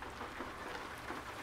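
Steady rain falls on a Renault Range T truck's cab and windshield in Euro Truck Simulator 2, a dense even wash of drops with no distinct wiper strokes standing out, moderately loud and with no voices.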